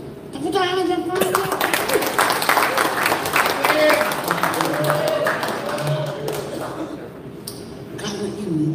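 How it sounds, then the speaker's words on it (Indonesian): Applause from a church congregation at a PGPI general assembly, rising under a man's speech with steady, dense clapping that holds through the clip while he keeps talking over it. "Tepuk tangan yang paling"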